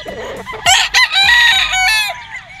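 A local banded gamefowl stag with a straight comb crows close by in one long, loud cock-a-doodle-doo, with short clucks just before and after it.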